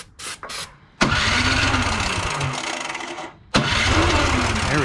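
A Toro 721 snowblower engine with a freshly cleaned carburetor and a new spark plug cranks with a few short bursts, then fires and runs loudly, dips briefly and roars back up.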